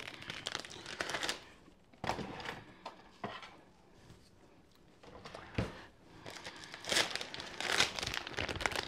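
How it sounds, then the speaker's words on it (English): A crinkly bag of Takis Buckin' Ranch chips rustles and crackles in bursts as someone pulls and tears at it, loud up close with short quiet pauses. "I don't like tearing it down the side"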